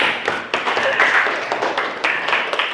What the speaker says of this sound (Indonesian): Tepuk tangan buat kita semua dong ya.